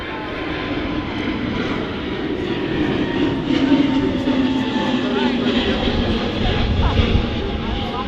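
An EasyJet Airbus A320neo airliner roars at Manchester Airport, a loud sustained jet engine rumble that swells slightly midway and stays steady.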